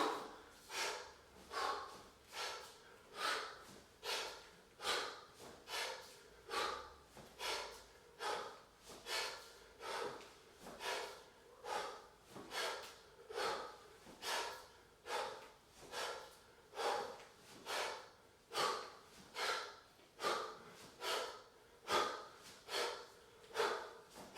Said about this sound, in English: And then play with the breathing.